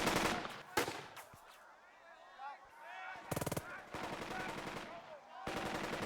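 Gunfire in the tactical war game Burden of Command, with several bursts of rapid machine-gun-like fire and separate sharp shots spread across the clip, fairly distant and moderate in level, with some faint talk underneath.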